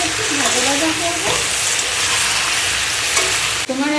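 Turmeric and salt frying in oil, with a steady close sizzle and repeated scraping stirs across the whole stretch, while a voice talks over it.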